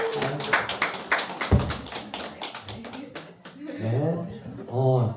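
After a team presents at an XR hackathon, a brief burst of scattered claps sounds close by, mixed with talking, then a voice carries on alone.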